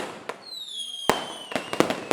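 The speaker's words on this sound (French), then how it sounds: "Il y a une grosse scène d'explosion." An explosion effect from a big cinema scene starts with a falling whistle, then lets off a string of sharp, close bangs and cracks that echo into the room.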